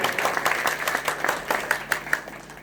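A crowd at a ceremony honouring women gives warm applause, a lively mass of clapping with distinct sharp claps popping out of the texture, fairly close and sustained before easing off slightly at the end.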